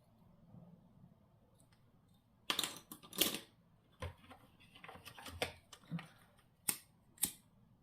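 Paper being cut for a floral scrapbook album, a quiet room with faint rustling, then a series of crisp snips and clicks in irregular bursts, some loud and sharp, others softer.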